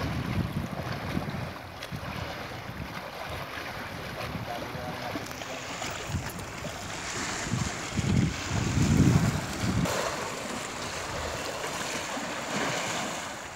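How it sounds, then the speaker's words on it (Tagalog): Waves wash and slosh around a fishing boat off Dammam Corniche with steady wind noise, swells building louder toward the end. "Ayan, lumalakas ang alon"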